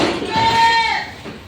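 A Boer goat lets out one loud, close, wavering bleat at feeding time on a farm, with faint clinks and shuffling around it.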